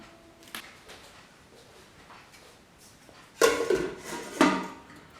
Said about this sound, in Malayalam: അപ്പോൾ ഇനി ഇത് മൂടി വെച്ചേക്കാം